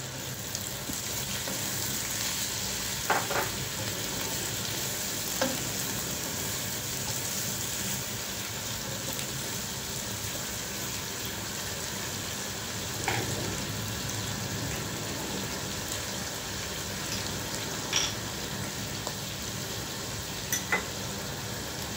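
Pineapple slices and their sauce sizzle in a pan with beef meatballs, a steady frying hiss with occasional faint clinks and pops, moderately close and continuous.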